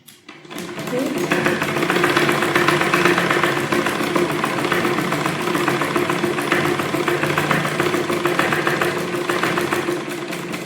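Domestic sewing machine running steady basic stitches, a continuous mechanical whir with engine-like hum that carries on almost uninterrupted, with slight pace changes as the stitching slows near the end of a seam.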